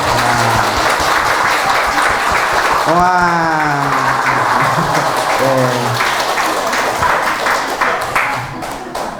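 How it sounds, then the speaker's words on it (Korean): Lecture audience at a Buddhist monk's talk claps loudly and steadily, with a voice speaking over the applause partway through before the clapping tapers off at the end. "제가 먼저 박수 쳐요."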